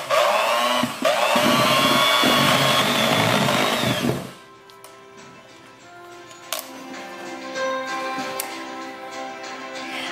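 An electric mixer beating dry ingredients into wet for a blackberry coffee cake batter, a loud, close motor whir for about four seconds before it shuts off, leaving quiet kitchen clatter.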